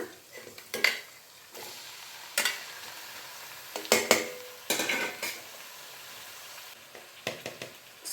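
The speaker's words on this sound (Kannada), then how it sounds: "ಈಗ ಕಟ್ ಮಾಡಿ ಎತ್ತಿಟ್ಕೊಂಡಿರೋಂಥ ಟೊಮೆಟೊನ ಹಾಕ್ಬಿಡೋಣ" Chopped tomatoes added to softened onions in a pan for tomato egg gojju, with a faint sizzle under intermittent clinks and scrapes of a spoon against the pan, close and fairly quiet.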